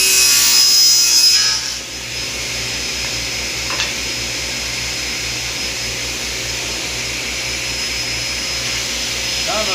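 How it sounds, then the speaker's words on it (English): A table saw runs with a Dubby panel sled cutting a wood panel: a loud whine and rasp of the blade through wood at first, settling into a steady motor hum with low buzz after the cut. "Cut this side."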